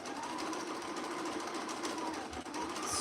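A sewing machine stitching stretch fabric over pins, a fast continuous mechanical whir that runs steadily and evenly without pause.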